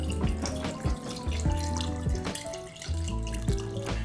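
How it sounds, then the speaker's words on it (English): Beef broth poured into a cooking pot for French onion soup, a steady splashing liquid stream with bubbling and clinking, close and moderately loud, no talking. "let's go ahead and add some of our beef broth."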